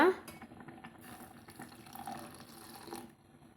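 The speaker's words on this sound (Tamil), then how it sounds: "இன்னும் கொஞ்சம் நம்ம தண்ணி ஊற்றிக்கலாங்க" Water splashes into a pot of onion leaf sambar, a steady running pour with faint liquid gurgle at close range, fairly quiet throughout.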